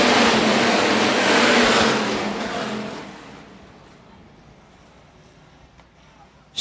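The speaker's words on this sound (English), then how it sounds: "16 IMC Hobby Stocks will take the drop of the green flag" A pack of sixteen IMC Hobby Stock race cars, including a big Mopar, roars off at the green flag at Phillips County Raceway, loud broadband engine noise that swells briefly and then fades into the distance.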